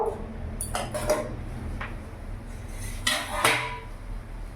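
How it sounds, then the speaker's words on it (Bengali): A metal lid lifted off a cooking pot of eggs simmering on a gas stove, a few sharp clinks and scrapes at the start and again near the end, close and clear over a quiet background. "এবার আমি ঢাকাটা খুলে দেখবো।"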